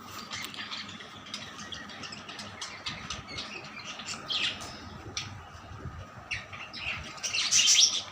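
Baby bird chicks, one to five days old, chirp in a nesting pot with quick, repeated high tweets. The calls sound moderately near and rise near the end over a steady background hiss.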